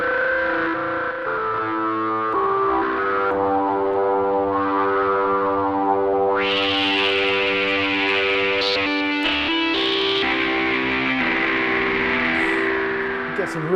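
Delta CEP A paraphonic modular synth playing a sustained, buzzy chord through digital distortion, the tone shifting as the filter and drive change, with a bright harmonic swell midway and a brief dip before it continues.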